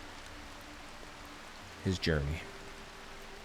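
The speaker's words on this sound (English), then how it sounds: "now we just kind of get to relax with the rain a little bit here" Steady rain falls in the colony-survival game Rimworld, a constant soft hiss running throughout, with a voice briefly speaking over it.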